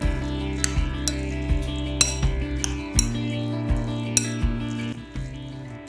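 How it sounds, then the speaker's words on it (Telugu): A spoon stirs cooked rice with milk in a bowl, making repeated close clinks and scrapes in an uneven rhythm against a steady low hum, with no voices. "1 కప్పు రైస్కు 1/2 కప్పు పాలు వేసుకోవాలి. బాగా కలుపుకోవాలి."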